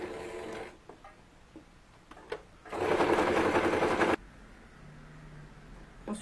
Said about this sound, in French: Et je vais faire un surfilage ici sur le bord de mon tissu. Donc le point zigzag, une fois sur mon tissu,